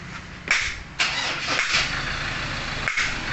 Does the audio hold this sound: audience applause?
no